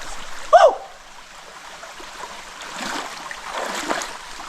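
Water streams down the Giriket waterfall in Sreemangal as a steady, moderately loud hiss with a soft swell toward the end. A brief chirp-like sound rises near the start.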